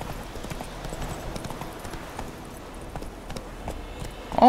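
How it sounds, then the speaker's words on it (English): A horse gallops in The Witcher 3 video game, its rapid hoofbeats clattering in a steady running rhythm, fairly quiet, before a sharper burst at the end as it jumps. "Oh, the horse can jump."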